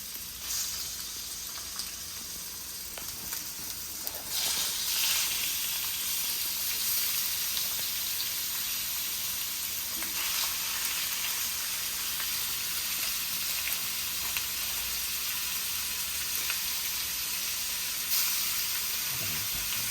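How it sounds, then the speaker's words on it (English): Oil and pork sizzle steadily in a stir-fry pan, a continuous bright hiss that swells slightly partway through and stays close and even throughout. "She's distributing the oil there. Hear the sizzle."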